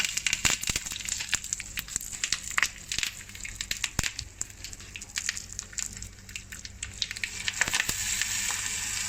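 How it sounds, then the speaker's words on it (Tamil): Curry leaves are dropped into a hot roasted chutney mixture with the gas turned off and stirred, giving close crackling, crunchy scraping and sharp clatters of the spoon against the pan. "இப்போ நம்ம கேஸ் ஆஃப் பண்ணிவிட்டு அதில் இந்த கருவேப்பிலையும் போட்டுடலாம்"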